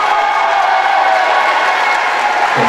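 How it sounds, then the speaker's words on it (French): Audience applause at a live pageant-style presentation, a loud, steady wash of clapping and crowd noise with faint cheering that holds evenly from start to finish. "Applaudissements pour Emma"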